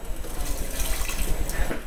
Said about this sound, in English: So we'll add a quart of water to that.